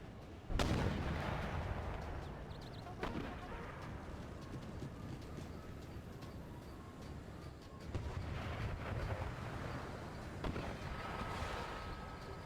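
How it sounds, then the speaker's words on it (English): Artillery cannons boom across an Empire: Total War battlefield, with a sharp heavy blast near the start and further distant thuds scattered over a rumbling battle din. "My own artillery is trying to take him out, but not doing such a great job."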